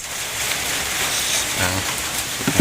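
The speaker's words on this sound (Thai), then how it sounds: "ฝนยังได้มาตกเดือนเมษา" April rain falls steadily on a surface near an outdoor country kitchen, making an even, close hiss of drops. A brief low murmur can be heard near the end.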